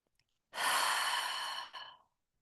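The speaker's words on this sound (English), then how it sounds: "We're going to start with a nice, deep, cleansing, purifying breath." A long, deep cleansing breath taken at the start of a guided meditation: one steady, airy exhale swelling up and holding for over a second, then tapering off with a softer trailing puff, close and clear in an otherwise silent room.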